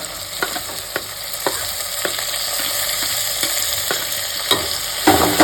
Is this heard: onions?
yes